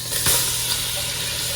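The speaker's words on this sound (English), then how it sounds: "our butter's nice and melted, and it's kind of sizzling." Steady broadband sizzle of melted butter frying in a pan for mac and cheese, a constant crackling hiss with a faint low hum underneath, no voices.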